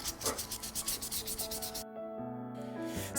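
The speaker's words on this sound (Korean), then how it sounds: "3번의 옷땜칠 후에는 사포로 기물을 매끄럽게 다듬는 갈기 작업을 해야 한다." Sandpaper rubs back and forth over a lacquered object in quick rhythmic strokes, close and fairly faint, then stops, leaving a quiet steady hum.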